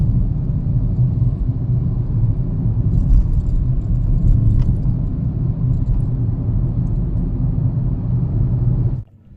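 A brand-new car drives through Pune, heard from inside the cabin as a steady, loud low rumble of engine and road noise that runs unbroken for about nine seconds, then cuts off abruptly near the end.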